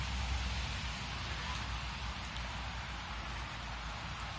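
Rain falls outdoors onto a green patch, a steady, fairly loud wash of hiss with a low rumble underneath, unbroken and even for the whole stretch.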